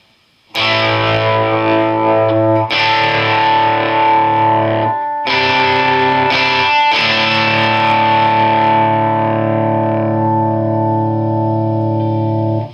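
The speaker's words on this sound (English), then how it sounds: "I'm going to play more classic rock riffs" Distorted electric guitar plays chunky classic rock riffs through a Fender Mustang GTX 50 amp, loud and sustained, with brief pauses between phrases and a long ringing final chord.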